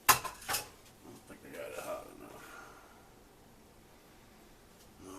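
A brand new skillet and cooking utensils clank and scrape in a few sharp knocks at the start, then give way to soft rustling and a quiet sizzle-like hiss in a home kitchen.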